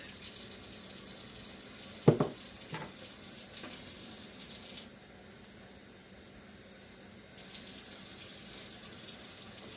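Hot water runs from a kitchen tap for chicken soup broth, a steady hissing rush near by with a brief clunk early on and a quieter lull midway before the flow picks up again.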